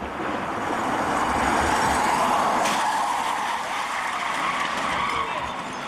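Car tires skid loudly under hard braking in a road crash, a long broad screech lasting several seconds with a sharp transient midway, no voices.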